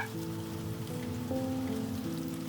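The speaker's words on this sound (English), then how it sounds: "There's something about the rain that makes everything feel slower, quieter." Soft, steady rain pattering on a surface near horse stables, a continuous gentle hiss at low volume, calm and unbroken, with no voices.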